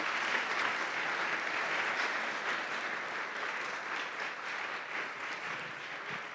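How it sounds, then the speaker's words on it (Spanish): Sustained applause from an audience at a public lecture in Santiago, Chile, a dense steady wash of many hands clapping that stays loud and even throughout, with no voices over it. "a nuestra maravillosa expositora, que le vamos a dar un mega aplauso"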